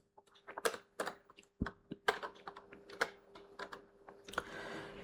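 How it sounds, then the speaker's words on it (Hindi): Clicks of a computer keyboard as code is typed into the VS Code editor for Python NumPy array work, with irregular bursts of sharp, close keystrokes and short pauses, no voices. "ये आपका टाइप कर दिया"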